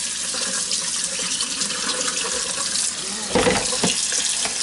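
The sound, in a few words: tap water filling a bowl for pickling fish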